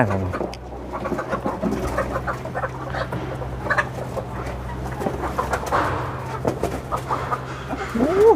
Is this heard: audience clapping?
no